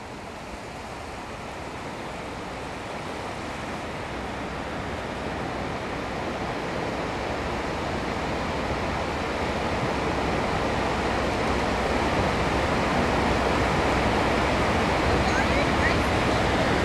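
Water rushes and rises in the flood effect on the Universal Studios California tour, a broad roaring wash that builds gradually in loudness and stays dense throughout, with voices faintly mixed beneath it.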